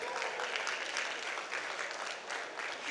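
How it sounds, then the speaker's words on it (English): Applause from a conference audience at an M42 and Broad Institute precision health event, a steady dense wash of clapping for about three seconds at moderate distance, with no speech over it. "Please give him a big round of applause."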